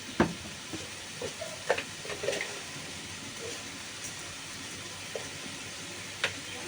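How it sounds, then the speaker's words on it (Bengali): Spiced food with ginger, chilli powder and a little sugar cooks down in a pan, a faint low sizzle punctuated by sparse, close scraping clicks from stirring. "এবার এটাকে শুধু টানাবো নাড়তে নাড়তে শুধু টানাবো"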